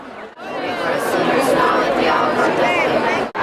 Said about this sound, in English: At the first outdoor Mass celebration, the magnitude and joy of the crowd overwhelmed the eye and the ear.